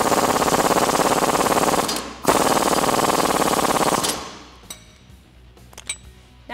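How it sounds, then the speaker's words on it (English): An impact wrench rattles off rapid hammering bursts while tightening an 18 mm bolt on a Jeep Wrangler JK suspension lift install, two loud sustained runs with a brief gap, then trailing clinks and clatter as it stops. "Then we can go ahead and tighten that down with our 18 millimeter socket and 18 millimeter wrench."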